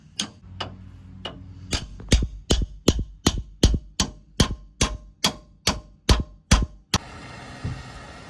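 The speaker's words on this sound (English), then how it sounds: "So he's gonna hammer that in and see if we can pop it off." Repeated sharp metallic hammer strikes driving a pickle fork into a tie rod on a third-generation Cummins truck, about a dozen in a steady rhythm, loud and close, ending with a hiss of background noise.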